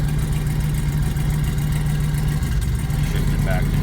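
A car engine idles steadily after being shifted into gear, a continuous low rumble that holds the whole time while a person talks over it.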